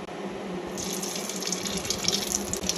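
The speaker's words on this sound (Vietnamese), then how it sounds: "Bây giờ mình thả cái bánh chén rong biển vào mình chiên nha mọi người" Pieces of seaweed cake fry in hot oil in a pan with a continuous, close sizzling hiss that grows brighter and crackles more after the first second.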